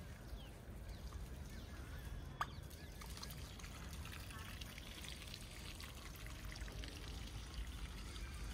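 Water poured onto lemon plants in a home garden, a faint steady trickle and splash, quiet and close, with a person talking over it.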